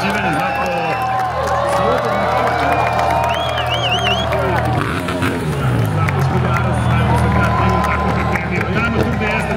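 Spectators cheer and shout at the Red Bull Showrun street motorsport event in Sarajevo, a continuous roaring crowd while an announcer talks loudly over it throughout.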